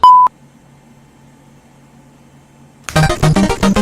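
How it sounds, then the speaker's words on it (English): A single short electronic beep from an answering machine sounds loudly at the start, followed by near silence with faint low hum, then a burst of sound at the end. "Leave your message after the beep."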